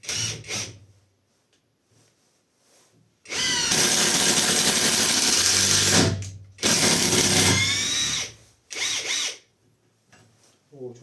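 Catpower 4226 cordless impact driver runs on its low and high settings: two long, loud whirring bursts, each several seconds, between short blips and quiet gaps.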